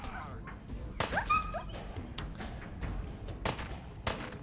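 A dog in the Fallout 4 video game barks and whimpers in short yips amid thumps and scattered game effects, moderately close over a busy background.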